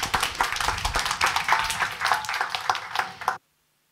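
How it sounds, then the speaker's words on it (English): Conference audience claps for an arriving speaker, a lively, even patter of many hands that carries steadily for over three seconds and then cuts off abruptly to silence. "let's give him an applause"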